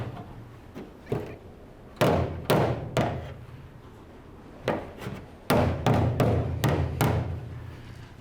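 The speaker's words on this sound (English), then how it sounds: "Don't know if I've got enough room to work a hammer in there." Sharp metallic hammer blows against a dolly on a rusty car panel, struck in irregular groups of two to five hits with pauses between, close and loud without speech.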